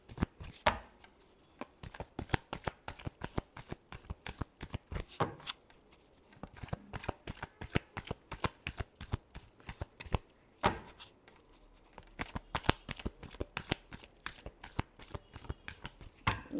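Tarot cards being shuffled by hand, a quick run of crisp riffling snaps and flutters repeating in bursts with brief pauses, close and fairly quiet, no talking.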